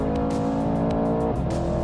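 Loud, sustained engine roar of a 2021 BMW M4 Competition, Audi RS5 and Mercedes-AMG C63S accelerating hard in a drag race, the pitch climbing then shifting as a gear changes partway through.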